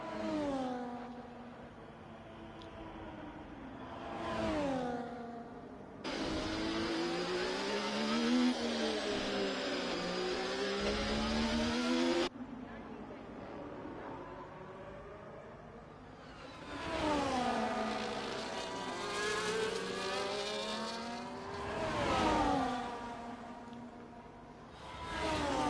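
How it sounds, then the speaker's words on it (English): Several race car engines in a video game whine and rev in overlapping waves at the Interlagos circuit in Brazil, pitch climbing and falling as cars pass, with a louder sustained burst in the middle. "enjoy the sounds of the cars"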